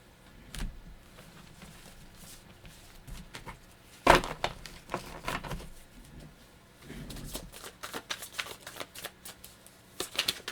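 Tarot cards being shuffled by hand in repeated bursts of riffling and flicking, close and fairly quiet, with brief pauses between shuffles.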